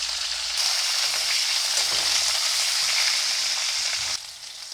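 Potatoes and raw green chillies frying in hot oil in a pan, a loud, dense, hissing sizzle that holds steady and then drops in level near the end, close up with no voices.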